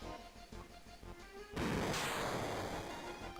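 A sudden burst of gunfire in a Final Fantasy VII battle, loud and dense, cutting in abruptly after a quieter stretch and ringing out for a couple of seconds.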